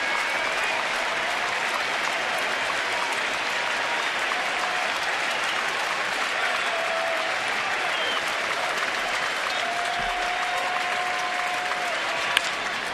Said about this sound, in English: Fans applauding for a strikeout here